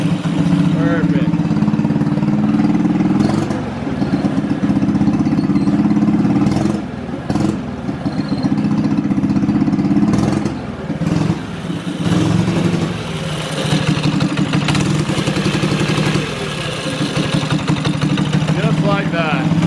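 Ski-Doo Mini-Z snowmobile, left sitting for years and just restarted, runs its small engine steadily and loudly close by, with throttle blips that briefly raise the pitch and a few short dips in between.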